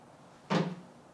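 A microwave door swings shut with one short, soft thud in a quiet kitchen, with a faint rattle trailing after the impact.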